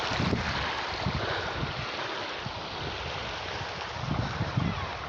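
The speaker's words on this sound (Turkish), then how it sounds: "Çok güzel sular akıyor." Mountain stream water flowing steadily on a highland plateau (yayla) ringed by mountains near Kadıköy, a broad continuous rushing wash with wind buffeting the microphone, no voices.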